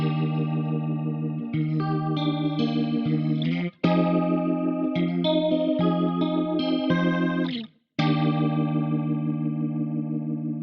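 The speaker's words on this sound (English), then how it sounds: "I'll kick it on so that we can have some sort of like organ sound going" Electric guitar through a Fractal FM9 rotary effect block, giving a swirling, organ-like tone as sustained chords ring out loud and alone, with two brief breaks between phrases.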